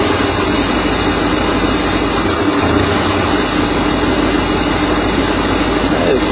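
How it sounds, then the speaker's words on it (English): A van engine with freshly repaired carburetor jets runs loud and steady nearby, giving a constant rumbling drone with no clear rise or fall in pitch. "boost the throttle. Look the way it takes the throttle down"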